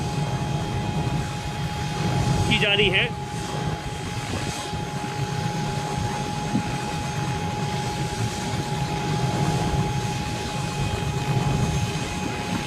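A helicopter carrying a bride and groom at a wedding in Barmer, watched by a large crowd, drones steadily and loudly throughout with a broad rotor and engine rumble, while a brief voice speaks early on.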